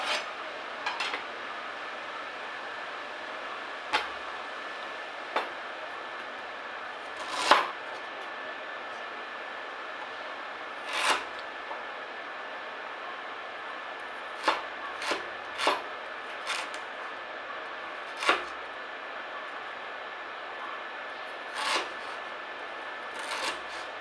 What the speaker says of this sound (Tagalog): Luya, gagayat ng luya.